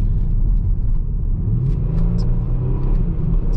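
A 2019 Kia Stinger GT AWD accelerates with the throttle floored on a test drive, giving a loud, steady, deep engine rumble and road roar heard from inside the cabin throughout.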